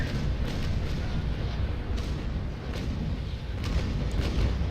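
Naval cannon broadside in the game Naval Action, a dense rumbling barrage of overlapping deep booms with a few sharper cracks, loud and continuous with no voices.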